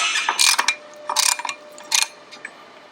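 A hand ratchet loosens bolts during a 3S-GTE engine swap on a Toyota KP61 Starlet, giving three close, quick bursts of sharp clicking separated by short pauses.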